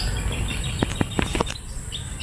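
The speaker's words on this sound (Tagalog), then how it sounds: "Ibon na nga lang yung maririnig mo, eh." Several quick bird chirps in a close little cluster in a garden over a steady outdoor background hum, then the chirping fades.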